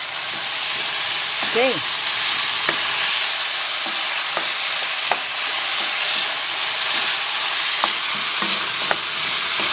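Shrimp frying in a pan with a steady loud sizzle throughout, occasional stirring clicks, and a brief word spoken over it.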